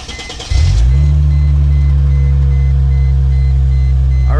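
A Chrysler Crossfire starts up: a short crank, then the engine catches and settles into a loud, steady idle close by, with a brief chirping tone near the end.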